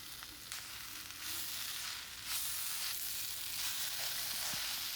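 Ginger garlic paste sautéing in a pan for chicken curry makes a continuous soft sizzle that swells in a few waves, heard alone without talk.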